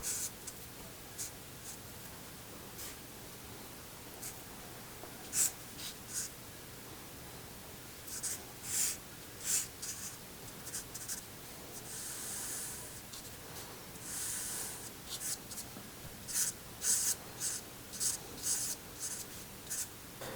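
A pencil scratches and strokes across paper while sketching a simple cartoon face, soft and close, with short bursts of scribbling separated by pauses and quicker shading strokes toward the end.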